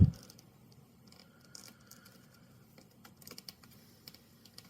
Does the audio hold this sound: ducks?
no